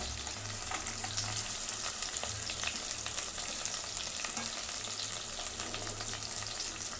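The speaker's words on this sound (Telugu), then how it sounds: "పప్పు ఒక సైడ్ వేయించుకోవాలి కొంచెం. తర్వాత ఉల్లిగడ్డ," Dal and onion frying in a pan for tomato pappu, a steady close sizzle with occasional stirring scrapes running throughout, no voices.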